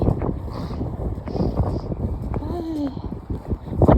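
Strong, dry, cold wind buffeting outdoors, a continuous rough rumble of gusts hitting the microphone, loud and close, with someone talking over it and faint background sounds.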